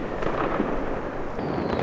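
Fireworks going off on New Year's Eve in Berlin, heard as a dense, rumbling wash of booms and crackles merging into a continuous roar, loud and somewhat distant and reverberant.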